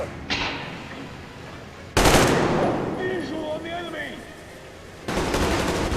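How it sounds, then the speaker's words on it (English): Gunshots fired at a barrel in the Metro Exodus video game, loud bursts at the start, around two seconds and near five seconds, with game noise and ringing tones between them. "just got to shoot that barrel a couple of times"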